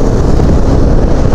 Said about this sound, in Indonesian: Angin mulai ya.